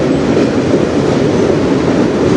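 A freight train rolls past on the Strathroy Subdivision, its loud, continuous rumble and rattle of railcars filling the air with faint rhythmic clacking and no voices.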